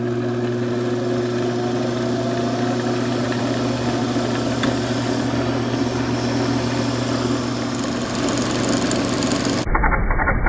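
A 3/4 horsepower variable-speed wood lathe motor runs at a steady, loud hum with a constant tonal drone, continuous and unbroken, alone with no talking.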